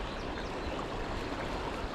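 Fast, high-running water of the Roaring Fork river in Colorado rushes in a steady, dense broadband wash, close and continuous with no voices over it.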